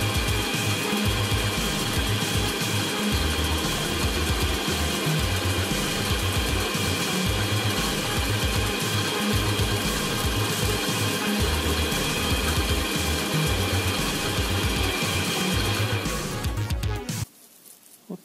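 Metal lathe turning a 28 mm workpiece while it throws off one long unbroken chip: a steady, loud, continuous mechanical hum and whir with rhythmic low drone, running unchanged for about seventeen seconds before stopping abruptly.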